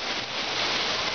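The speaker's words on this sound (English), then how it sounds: "Look at the hail." Hail pours down steadily during a storm in Prague, a dense, constant hiss of falling ice and rain with no pauses, loud and close throughout.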